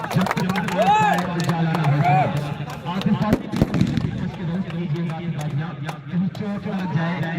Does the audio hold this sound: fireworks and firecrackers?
yes